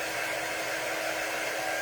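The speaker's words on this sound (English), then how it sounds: "Sorry, got a dryer in my ear here." A hair dryer runs steadily right next to the listener, a loud, continuous airy whoosh with no letup.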